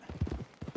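Horse hooves clip-clop at a walking pace in the video game Red Dead Redemption 2, a brief run of close, rhythmic hoofbeats.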